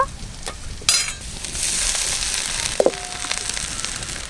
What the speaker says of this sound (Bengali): এবার ধুয়ে রাখা শাক দেব